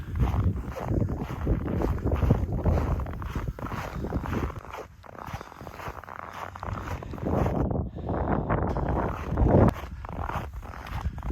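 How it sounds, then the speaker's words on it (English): Strong gusty wind buffeting the microphone on a hiking trail, a loud low rumbling roar that swells and dips with rustling and footstep-like scuffs, with no voices. "today we got a pretty good wind"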